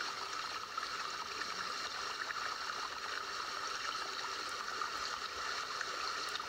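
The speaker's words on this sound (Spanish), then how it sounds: "este sonido, esta imagen que visualizamos de un río que fluye a través de un bosque" Steady, faint rushing and gurgling of flowing water, a continuous stream sound with no voices.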